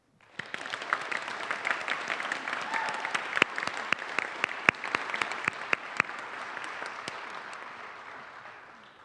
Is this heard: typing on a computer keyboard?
no